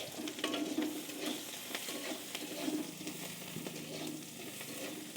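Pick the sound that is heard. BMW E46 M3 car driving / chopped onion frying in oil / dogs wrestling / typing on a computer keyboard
chopped onion frying in oil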